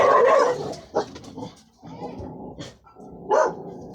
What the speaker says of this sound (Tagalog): Yung mga aso ko dito, yung mga nagtatahulan pa po mga kapatid